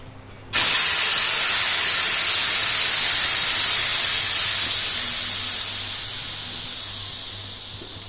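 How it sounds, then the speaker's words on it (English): Pressurised gas hisses loudly out of a beer keg being purged, starting abruptly and holding as a strong, steady blast before slowly tapering off, with no talk. "So first thing I need to do is purge the keg."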